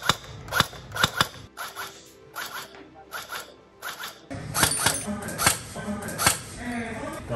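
A KRYTAC FN P90 airsoft gun, slightly modified and fitted with an AceTech tracer unit, fires at an indoor shooting range in sharp rapid bursts and single shots, loud and close, with someone speaking over part of it.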